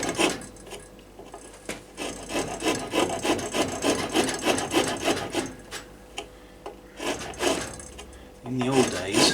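A rasp files a wooden bow tip in a workshop with steady, close, rhythmic rough strokes, pausing briefly before resuming.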